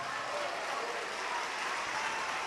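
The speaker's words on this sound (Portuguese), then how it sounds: "vamos dar a melhor salva de palmas que já se ouviu em Salvador" A church congregation in Salvador, Bahia, claps in a dense, sustained wash of applause that holds evenly from start to finish, loud and crowd-sized with no talk on top.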